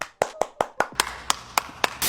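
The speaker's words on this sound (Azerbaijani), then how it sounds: "Mən alqışlayacaq heç kim yoxdur deyə özüm alqışlayıram." A single person clapping hands, about nine sharp claps in an uneven rhythm, close and fairly loud, ending in a brief burst of noise.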